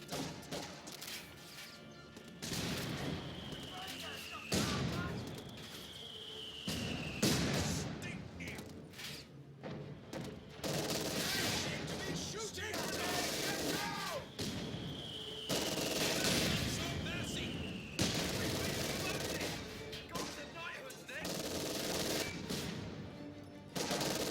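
Vickers machine gun fire from a WWII strategy video game set in Ettelbruck, with repeated loud bursts and sustained rattling volleys alongside scattered crashes and explosions throughout, with mortar and bunker combat in the mix.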